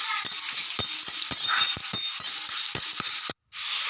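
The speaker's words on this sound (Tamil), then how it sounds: "ரெண்டே ரெண்டு வரமிளகா எடுத்து வச்சுருக்கோம் சேர்த்துட்டு வறுத்துப்போம்" Urad dal and dried red chilies dry-roasting in a pan, a steady close hiss with light rattling taps and stirring knocks scattered through, cutting out briefly near the end.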